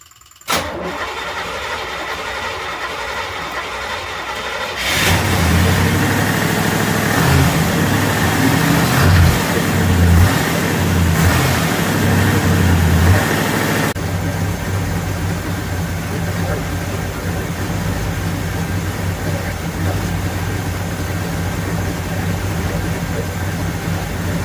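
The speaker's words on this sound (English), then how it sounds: "start the car, show you guys that it runs fine" Small-block 350 V8 in a 1983 Camaro Z28, with the smog pump deleted and vacuum lines removed, cranks briefly, catches and settles into a steady, loud idle with a slight lope that carries on to the end.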